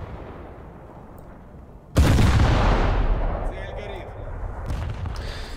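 Destroyer Harakaze's guns firing on the player's ship in a naval warship game: a sudden loud, close blast breaks in after a quiet rumble, then decays into a long roar with fainter shots following.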